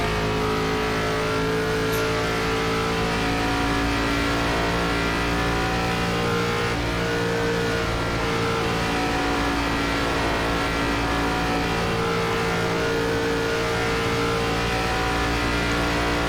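ARCA stock car engine droning steadily at Texas Motor Speedway in the iRacing simulator, a loud sustained roar with shifting harmonic pitch as it laps the oval, no talk over it.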